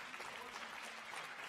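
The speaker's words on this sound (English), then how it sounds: "please give a very big applause" Audience applause for a science speaker at a conference, a short, steady burst of dense clapping heard from within the crowd.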